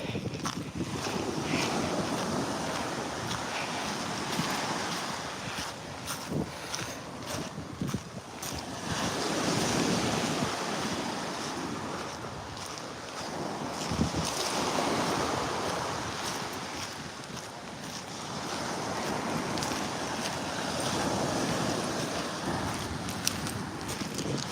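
Ocean waves wash onto a beach in slow rolling swells, mixed with gusty wind buffeting the microphone, moderately loud and continuous with no talking.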